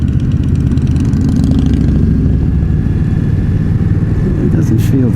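Indian Scout Bobber motorcycle ridden on a demo ride, a steady loud engine drone with wind rumble throughout, no clear revs, and a few brief knocks near the end.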